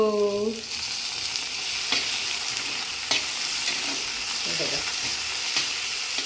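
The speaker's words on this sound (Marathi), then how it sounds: "परत टोमॅटोला पण थोडंसं परतायचं आहे" Tomatoes sauté in a pan with onion already fried light pink, for a spicy masala mushroom dish. A steady close sizzle runs throughout, with a few brief stirring scrapes and clinks and no speech.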